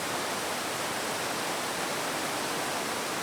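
A waterfall in the Columbia River Gorge roars as a steady, dense wash of broadband noise, constant and unbroken throughout with no voices.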